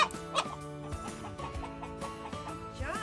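Crossbred laying hens cluck and chatter in a backyard coop, a steady run of close, overlapping clucks with one bird's rising call near the end.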